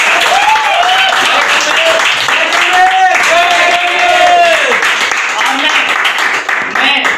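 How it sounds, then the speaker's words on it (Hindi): A large crowd at a group achievers' event bursts into loud, sustained applause, the clapping dense and continuous, with voices calling out over it. "मैं चाहूंगा दिल से ताली।"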